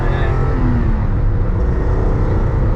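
A high-value BMW with a flat-six engine accelerates, a loud close engine roar with a rising tone, heard alone.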